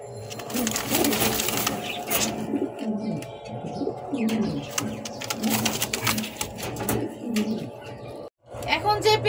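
Large-sized Lahori pigeons in a sale pair coo repeatedly at close range, a steady murmuring layer under ongoing background talk with a brief pause near the end.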